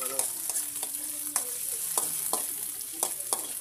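Onion, tomato and garlic sautéing in a pan for pork monggo, a steady close sizzle broken by repeated scraping and stirring strokes of a utensil against the pan.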